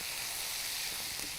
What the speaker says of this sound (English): we're going to go right into the pan here with the green beans